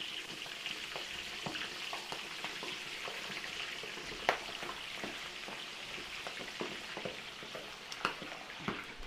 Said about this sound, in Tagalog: Prito po natin dito yung ating pamputsero.